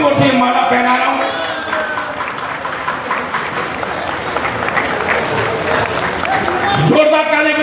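Dense crowd applause at a political rally, a steady roar of clapping lasting throughout while someone speaks loudly over it.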